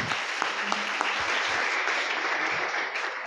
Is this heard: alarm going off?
no